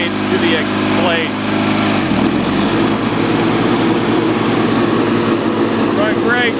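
Cub Cadet 1420 Hydro lawn tractor engine running loud and steady, briefly dipping in pitch then rising again as it is throttled up, with a person talking over it.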